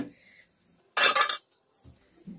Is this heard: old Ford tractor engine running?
no